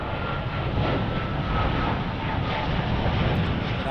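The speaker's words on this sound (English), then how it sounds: "As soon as I get this beautiful shot of the Dreamliner heading back to Warsaw" A Boeing 787 Dreamliner jet departing for Warsaw gives a steady, broad engine roar that stays loud and even throughout, with no talking.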